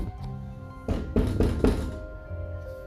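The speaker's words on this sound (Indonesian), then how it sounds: "Suara ketukan rumah terus terdengar." Three heavy thuds of knocking on a house door at midnight during wind and rain, evenly spaced and close, with music underneath and no talking.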